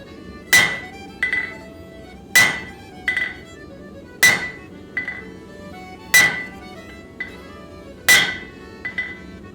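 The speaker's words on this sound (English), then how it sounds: "I line the two markings up against the edge of the anvil and I carefully start forging my set" Hammer blows forge the set-downs of a folded axe on an anvil: five evenly spaced heavy strikes, each followed by a lighter rebound tap, ringing metallically and close up.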